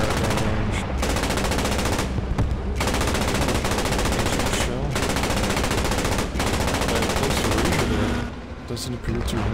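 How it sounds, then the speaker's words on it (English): Tank fire in a long-range battle in the World War II shooter Post Scriptum, packed into a loud, nearly continuous din of rapid gunfire and heavy blasts with brief lulls. "Tank taking time to very carefully and coax fire at long range."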